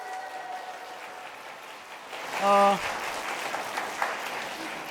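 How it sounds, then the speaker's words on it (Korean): Applause from an audience at an evening book concert with a priest, greeting a musical director and a children's play class; a broad clapping wash rises midway, briefly marked by a tonal chime, and continues under faint voices. "김지현님과 북한산 아트센터 나랄랄라 놀이교실 친구들에게 큰 박수 부탁드립니다"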